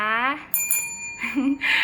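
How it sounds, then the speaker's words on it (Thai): A small bell, like a bicycle bell, rings with a clear bright tone at the start. Someone speaks briefly, and a second softer ring follows in the middle of her talk. "วันนี้มีกระดิ่งด้วยนะ"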